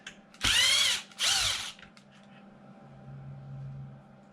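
Power drill backing a screw out of the body mount of a Traxxas XRT RC truck: two loud, close whirring bursts of about half a second each, then a quiet workshop hum.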